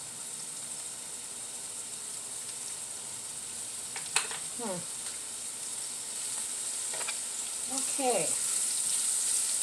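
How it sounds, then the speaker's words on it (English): Food sautéed in a pan with vegan chickenless seasoning salt sizzles steadily and close, with a few scraping stirs and a sharp clink partway through, while a voice speaks briefly. "I just want to saute this a little bit"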